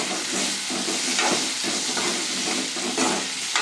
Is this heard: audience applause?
no